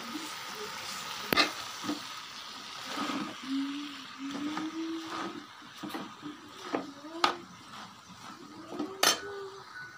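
Panna keerai spinach stirred into a pan with tomatoes, a soft steady sizzle with scraping and sharp utensil clicks against the pan, fairly close, with a faint voice in the background.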